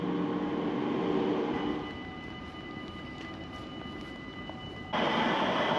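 A Rotterdam Metro Line B train rumbles steadily, the noise dipping for a few seconds and then swelling again, close and continuous with no talking.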